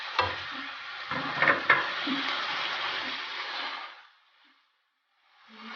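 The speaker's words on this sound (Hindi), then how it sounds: "इनको थोड़ा मिक्स कर लें।" Mixed vegetables with capsicum and green chilies are stirred in a sizzling pan, a loud hiss of frying with a few scraping spoon knocks that fades to near silence before the sizzle returns.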